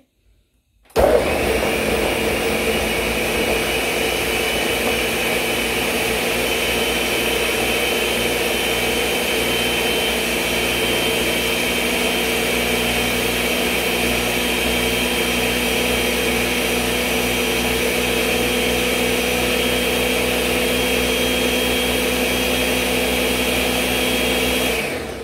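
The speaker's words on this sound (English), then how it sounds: "let's cover the blender and I'm gonna blend and get it together" A kitchen blender purees carrot and plantain porridge with a loud, steady motor whir that starts abruptly after a second of quiet and runs unbroken to the end, with no talking.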